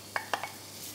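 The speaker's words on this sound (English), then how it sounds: "You can hear that sizzle." Chopped onion softens in olive oil in a heavy-based soup pot, a faint sizzle beneath three quick clinks of stirring within about a second.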